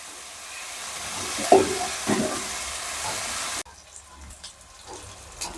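Ginger garlic paste and onions fry in oil for egg biryani, a close, steady sizzle with a couple of stirring knocks before it drops abruptly to a quieter, patchy hiss.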